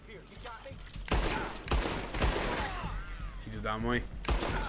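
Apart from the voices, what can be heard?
gunfire in a video game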